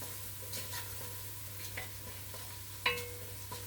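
Seasoned collard greens stirred in a pot with salt and black pepper, giving quiet scattered scrapes and soft clinks over a steady low hum, with one sharper clatter near the end.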